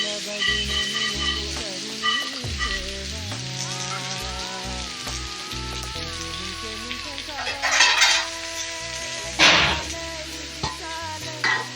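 Ridge gourd stirred in a hot pan with a spoon, scraping and sizzling in bursts, followed by a lid set down over it, close and fairly loud with no talking.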